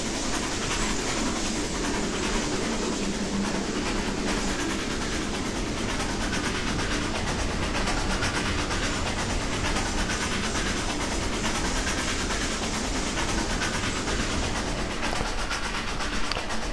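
Canadian Pacific 2-10-4 Selkirk steam locomotive running in Trainz 2019, a steady dense rumble with faint rhythmic rail clatter, continuous and fairly loud throughout with no talking.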